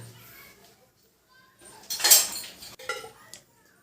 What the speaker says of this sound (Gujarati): ગેસ ઉપર કઢાઈ મૂકી દઈએ આપણે હવે